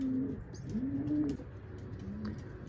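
Pigeons in a loft coo softly while pecking at their feed, with a few low, rolling coos and faint rustling and tapping in a quiet indoor space.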